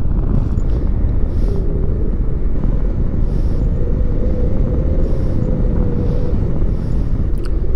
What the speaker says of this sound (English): That airplane was really close, within 200 feet probably.